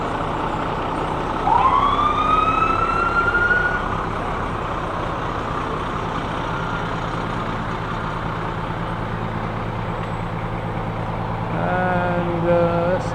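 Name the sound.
fire engine with siren driving in a parade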